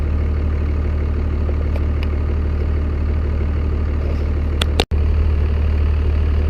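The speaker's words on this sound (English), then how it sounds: "The truck's been sitting and idling for about 20 minutes." A first-generation Cummins diesel in a Dodge truck idling steadily, a loud, even low rumble heard close up with a brief click and dropout near the end, no voices.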